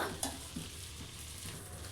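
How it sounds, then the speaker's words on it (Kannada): Egg keema with masala frying in a pan, a quiet continuous sizzle with a few soft scraping stirs from a spoon. "ಇದು ಇವಾಗ ಮಸಾಲ ಜೊತೆಗೆ ನೀಟಾಗಿ ಫ್ರೈ ಆಗಿದೆ"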